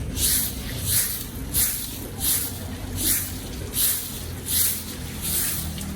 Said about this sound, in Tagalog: Wawalis po ako.